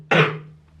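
A single sharp cough from someone with the flu, close and loud, with a rough burst that trails off quickly into quiet.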